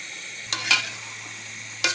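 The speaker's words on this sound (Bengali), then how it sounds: "কষিয়ে নিচ্ছি" Dried fish and jackfruit seeds sauté in a pan, a soft hiss under a low hum broken by two brief scraping stirs.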